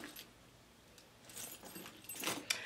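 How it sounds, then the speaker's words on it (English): Keys jangling as they are dropped into a handbag, a few quiet metallic clinks and rattles in short bursts, strongest near the end, with no voices. "I put my keys in here because I'll mess around and forget I got them."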